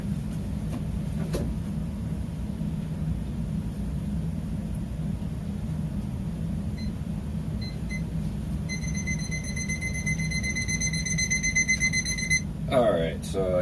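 Rapid electronic beeping from a timer alarm starts partway through and repeats steadily over a constant low rumble of running water at a DIY dip tank.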